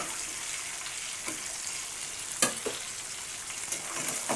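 Fish frying lightly in a pan for mustard fish curry, a soft continuous sizzle with a few sharper spits and pops, quiet and close, no voices.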